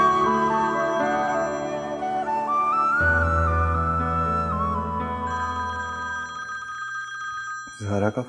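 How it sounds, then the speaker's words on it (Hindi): A telephone rings during a Pakistani TV drama scene, its electronic ringtone tones carrying over a swelling background music score before a brief sound at the end. "ज़ारा का फोन"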